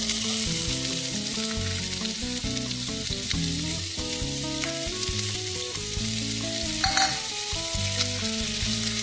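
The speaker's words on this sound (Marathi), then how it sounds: "आता त्याच्यामध्ये आपल्याला कांदा घालायचा" Two large finely sliced onions sizzle steadily in hot oil for chole masala, a dense close frying hiss running throughout with faint stirring and background music beneath.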